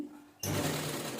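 A sewing machine stitching a blouse starts abruptly after a quiet pause, then runs in a steady, close, continuous mechanical whir.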